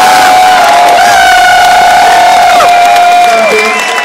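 A crowd cheering at the main stage of the MLG Columbus gaming event, a loud, sustained roar with shrill whistles and screams layered throughout.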